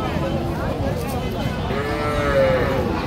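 Young bull calves moo at Aftabganj cattle market, one drawn-out low call rising near the end over the busy hum of the crowd and voices.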